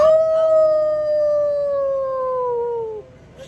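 Human voices imitating a wolf howl, a man with a child joining in: one long, loud, steady howl that slowly falls in pitch for about three seconds and then cuts off.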